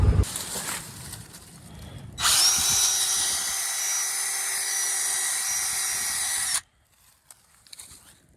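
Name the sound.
drill boring a tap hole in a maple tree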